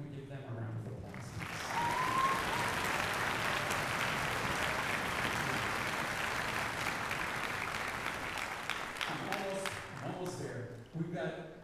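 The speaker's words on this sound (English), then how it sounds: "Can we give them a round of applause?" Sustained audience applause fills a school auditorium at a high school orchestra winter concert, swelling after the first couple of seconds and holding steady as dense clapping before fading near the end, with talk audible at the edges.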